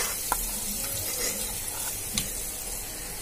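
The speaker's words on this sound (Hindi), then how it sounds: "इसे भी फ्राई कर लें 2 मिनट के लिए।" Fish pieces frying in a pan for a fish curry, a steady close hiss and sizzle with a few small clicks and pops, no voices.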